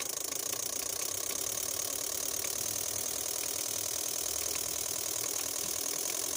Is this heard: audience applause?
no